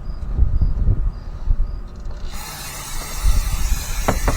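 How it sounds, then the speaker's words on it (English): A hissing brake cleaner spray blasts in bursts against a Mitsubishi Mirage brake rotor, with some mechanical clicking before it, close to the microphone. "You're supposed to spray the other side of the rotor too."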